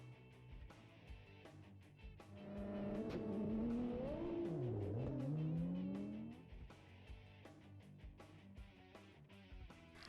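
Race cars at a Texas road-racing event roar past, one engine rising and falling in pitch as it surges by loudly in the middle, with fainter engine noise and clatter before and after.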